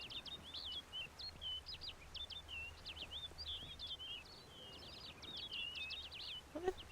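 A bird in the Witcher 3: Blood and Wine game world repeats quick high chirps and warbling calls in a continuous run, faint over a low background drone.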